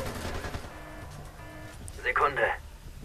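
Rapid gunfire rattles in the stealth game Splinter Cell Conviction, quick bursts of fire with a sharper, louder flurry late in the moment. Voices talk over the action.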